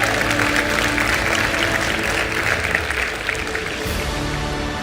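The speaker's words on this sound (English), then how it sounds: "You can clap for that" Audience applause at a motivational talk, a steady dense wash of clapping held at a fairly even level throughout, with no speech over it.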